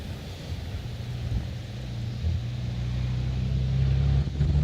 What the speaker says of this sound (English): You can hear the turbochargers spooling there as they come out of turn 10, 11 and 12.